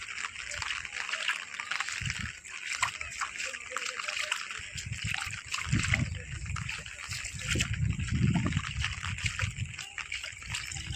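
Rain splashing and sloshing through waterlogged village roads during a downpour, a steady wet hiss with splashy bursts in the second half, under a faint voice.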